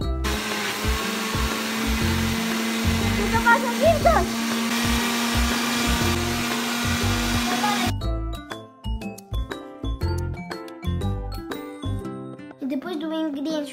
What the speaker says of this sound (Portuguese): Vamos tapar o liquidificador e vamos bater.